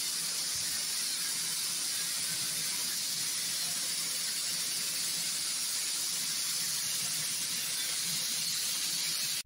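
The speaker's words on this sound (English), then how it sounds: "Our team will start blasting after inspecting the level of corrosion of the tanker" Abrasive blasting on the corroded body of a tanker in a workshop: a continuous, even hiss-roar of high-pressure grit that runs unbroken at moderate level throughout.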